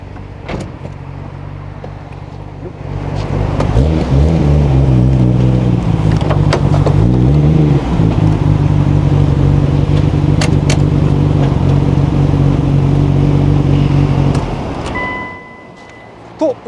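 A Nissan Skyline GT-R R34 fitted with a NISMO S1 engine idles steadily, its deep, even exhaust drone rising briefly with a couple of light throttle blips before the engine shuts off near the end.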